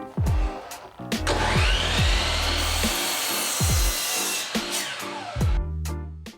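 A 1x6 pine board being cut through in one continuous, loud, close saw pass lasting several seconds, with sharp knocks at the start and end and no talking.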